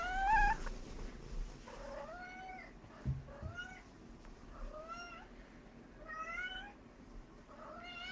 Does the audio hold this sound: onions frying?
no